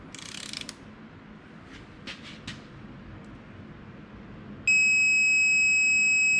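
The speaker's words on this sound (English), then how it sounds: "it'll make a beeping noise when we're there" A steady electronic beep from a digital torque wrench starts partway through and holds continuously to the end, loud and close, after a few faint mechanical ticks and clicks, while torquing motorcycle front brake parts.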